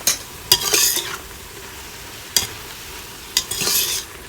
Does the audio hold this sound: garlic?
yes